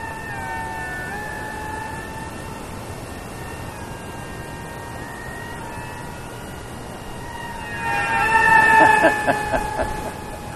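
The electric motor of a FlyBear FX823 micro F-16 RC plane whines outdoors with a thin, wavering tone that climbs and swells louder toward the end as the throttle is pushed up.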